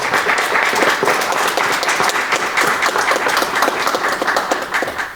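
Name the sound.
applause at a municipal council meeting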